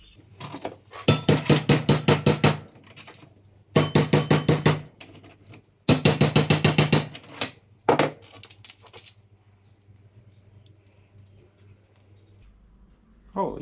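Steel bracket bent in a vise with rapid hammer blows, four loud bursts of ringing metallic strikes in quick rhythmic runs, then a few scattered single taps and quiet.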